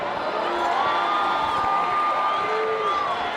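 A crowd at a boys' varsity high school football game cheering and whooping ahead of a play, a steady roar of voices with a few higher shouts rising over it.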